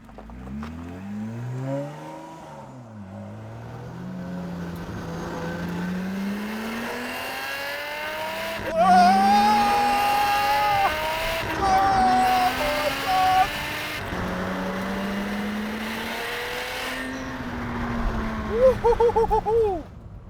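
A Lotus Exige V6 tuned by Komo-Tec to 460 horsepower drives on a public road, its engine climbing through the revs in repeated loud accelerations. Each pull ends in a sharp gear change before the next one begins.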